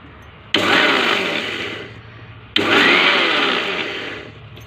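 A kitchen mixer grinder grinds sesame seeds for sesame-jaggery laddoos, running in two loud, steady whirring bursts, each starting abruptly and easing slightly before stopping.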